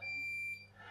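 A smoke alarm gives a single high-pitched electronic beep, faint and thin, sustaining for about half a second and then cutting off into quiet room noise.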